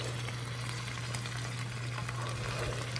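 Sauce being stirred in a pan over low heat, a steady soft sizzle and scraping texture running continuously and fairly quiet, close by with no talking.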